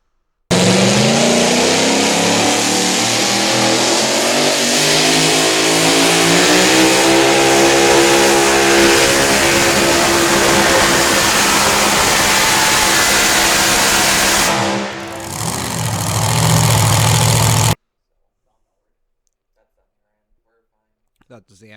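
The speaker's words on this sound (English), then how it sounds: "That's one big ass engine." A big engine revs hard and sustained at a pulling event, its pitch climbing steadily, then briefly dips before roaring again and cutting off abruptly into silence.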